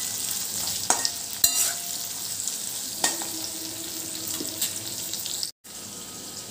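Sabudana khichdi being stirred in a pan, a spoon scraping and clinking against the metal in a few sharp strokes over a faint sizzle, with a brief drop-out near the end.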